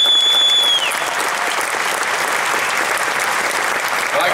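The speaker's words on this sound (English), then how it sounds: "One more round of applause for Earl Bruce." An Ohio State boosters' audience gives another round of applause for Earl Bruce, a broad, even wash of many hands clapping that holds steady from start to end, with a faint tone fading early.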